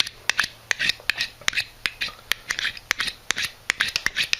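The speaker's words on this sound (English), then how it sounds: "I just take my screwdriver and I just take the little square part of the screwdriver there and just clean it up" A screwdriver scrapes a furnace flame sensor clean in quick, sharp strokes, a rhythmic series of close, crisp scratches repeated steadily.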